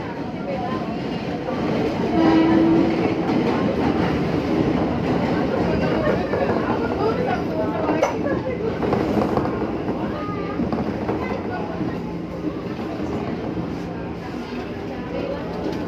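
JR203 Japanese commuter train riding through Jakarta, a continuous rumble of wheels and car body with rattling clatter, loud and steady the whole way, with people talking over it.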